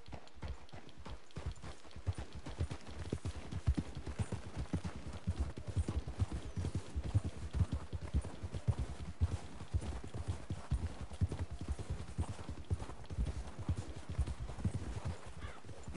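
Horse hooves clip-clop steadily in a western game world set near a tar pit, a continuous run of close, rhythmic hoofbeats with an occasional whinny and no talk over them.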